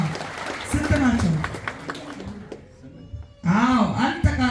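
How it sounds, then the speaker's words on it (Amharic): A church congregation claps in praise, a dense patter of many hands with a brief lull before it swells again, mixed with voices and cheering throughout. "አጨብጭቡ ለጌታ ክብር።"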